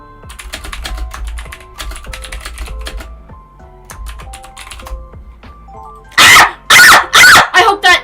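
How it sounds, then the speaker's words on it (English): Heavy-handed typing on a Razer BlackWidow mechanical keyboard gives dense, loud clacking keystrokes that run steadily, followed near the end by several loud barks from a dog. "I'm a heavy-handed keyboard typer. So that's why my keyboard sounds like gunshots."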